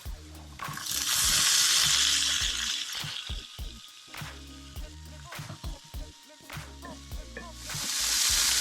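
Black beans go into a hot pan of spicy taco mixture, setting off loud bursts of sizzling and frying with stirring scrapes and clatter in between, the hiss swelling and fading several times.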